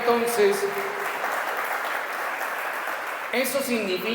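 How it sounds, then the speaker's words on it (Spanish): Applause from a church congregation, a steady wash of clapping running for a few seconds between stretches of a preacher speaking. "Un aplauso para ustedes por eso."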